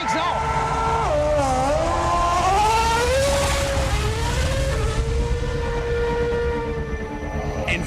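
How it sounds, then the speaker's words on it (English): A Formula 1 race car engine screams loud and close, its pitch dropping and climbing through shifts and sustained high revs before fading slightly at the end. "an F1 car accelerates to the kinds of speeds at which a jet aircraft takes off"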